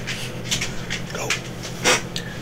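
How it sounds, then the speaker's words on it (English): A dog pants and whimpers close by in a home workshop during scale model building, with short breathy bursts and a louder whine near the end. "Got a dog bothering me."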